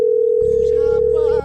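A steady telephone tone sounds as an outgoing call waits to connect, one continuous unbroken note held loud and close for over a second before cutting off, with a low hum underneath.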